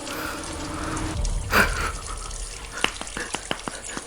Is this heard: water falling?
yes